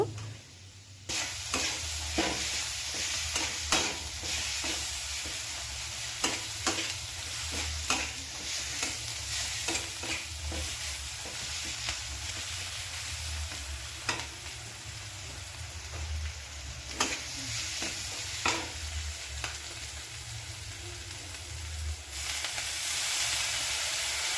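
Spices for a sankar (stingray) fish curry, including chilli and turmeric powder, stirred in a hot pan: continuous loud sizzling and frying with repeated scraping strokes of the spoon throughout.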